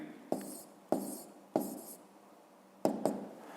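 Hand writing numbers for a fifth-grade maths exercise: four or five distinct pen strokes, each a short, close scratch, with pauses between them and no talking.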